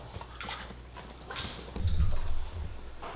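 Excited dogs pant rapidly and scrabble with claws clicking on a hard floor, a brief burst of heavier scuffling and snuffling near the middle, close by with no talking.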